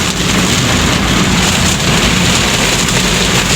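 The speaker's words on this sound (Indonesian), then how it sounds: "berkah hujan di hari ini" Heavy rain pours down in Indonesia in a loud, constant roar with no break and no voices.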